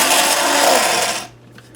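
An electric grinder whirs loudly up close as it grinds black peppercorns and coarse non-iodized pickling salt, a harsh gritty buzz that stops abruptly after about a second.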